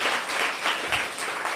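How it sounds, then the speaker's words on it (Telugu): A church congregation claps hands together in a dense, continuous burst of applause that fills the room, steady and fairly loud throughout. "చప్పట్ల కొట్టుము."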